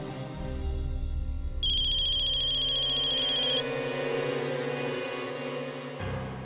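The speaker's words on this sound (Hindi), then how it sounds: "शिवम का फोन है। उठा लो।" A phone rings with a loud electronic ringtone, a melodic repeating tune with a bright beeping section, playing alone for several seconds.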